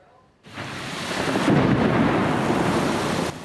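A heavy afternoon thunderstorm in southern Taiwan, with strong wind and downpours: a deep, continuous rumble of thunder swells in and holds over steady roaring rain for several seconds, then cuts off, with no voices.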